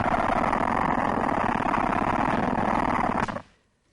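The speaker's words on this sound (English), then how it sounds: "So here is the sound of the ant queen." A recording of an ant queen stridulating by scraping the rear of her abdomen against itself gives a dense, continuous buzzing rasp, loud and steady for about three seconds before cutting off abruptly into silence.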